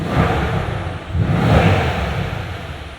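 Inside a 2015 Mercedes-AMG C63 S Edition 1 on the move with its performance exhaust switched on, the engine and exhaust swell twice in a loud, close roar over a broad cabin rush.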